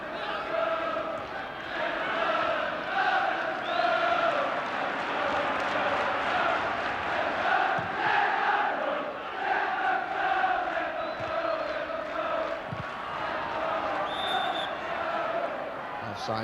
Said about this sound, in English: a really good crowd for the afternoon out at Vicarage Road